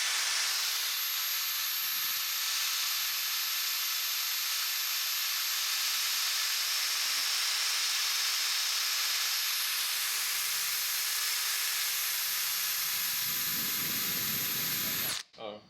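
WD-40 sprayed in a long, continuous hiss lasting about fifteen seconds, close and steady before cutting off abruptly, with faint voices underneath.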